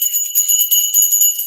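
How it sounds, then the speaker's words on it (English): A small hand bell rung during a live online chat show, its bright, high metallic jingle shimmering continuously and fairly loud throughout, with steady repeated pulses and no voices over it. "Let me ring the bell."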